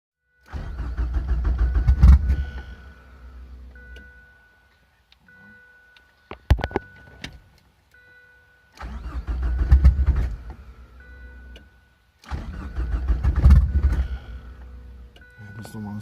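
Engine on a Ford Probe running a standalone ECU cranks in several bursts, with low rumbling turnover and brief catches, separated by quiet gaps and short clicks, loud and close with voices talking nearby.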